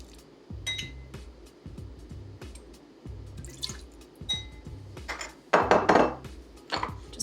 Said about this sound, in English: Just muddle all of those, and you'll see some really nice color come out of the blackberries there as they get smushed to bits.